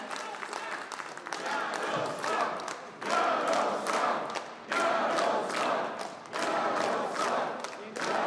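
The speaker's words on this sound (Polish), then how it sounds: "Mocny doping z Podlasia." Crowd at a political rally cheering and applauding in loud surging waves, with rhythmic chanting bursts and shouts rising and falling across the whole stretch.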